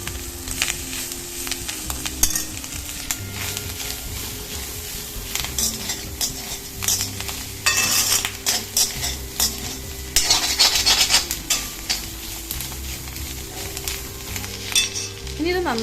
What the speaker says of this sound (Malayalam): ഫ്ലെയിം ഒന്ന് കൂട്ടിയതിന് ശേഷം നമുക്ക് നന്നായിട്ടൊന്ന് മിക്സ് ചെയ്ത് കൊടുക്കാം